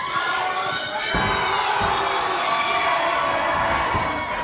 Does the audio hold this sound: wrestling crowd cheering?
yes